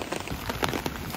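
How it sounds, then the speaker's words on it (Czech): Heavy rain pours down steadily, a dense close hiss of drops hitting surfaces with no voices over it. "A začalo strašně pršet, úplně Mordor."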